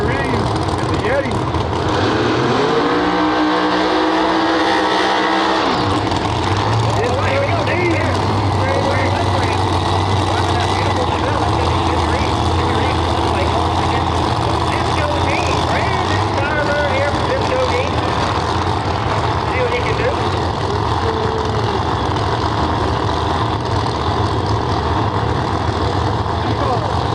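No-prep drag race cars, including the Yeti in the left lane, rumble and rev loudly with a low engine drone over a long stretch, under near-constant announcer commentary and crowd noise.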